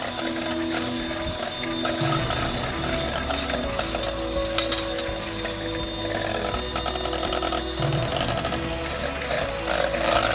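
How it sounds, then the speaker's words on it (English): Rechargeable wireless hand mixer beating a cream cheese batter for a Dutch oven lemon gooey butter cake, giving a steady close motor whir with a rattling, grinding texture that runs without pause. "Now you just keep mixing until it's nice and ooey gooey."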